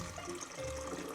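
Water pouring from a filter jug filled with very hard tap water, a steady close trickle and splash lasting about a second with no talk.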